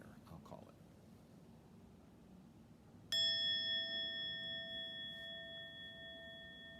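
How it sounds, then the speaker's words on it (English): A single bell rings before a breath prayer, a bright, clear strike that lingers and slowly fades with a gentle wavering shimmer over several seconds, after a brief moment of quiet room sound. "Let me ring a bell and lead us in a breath prayer"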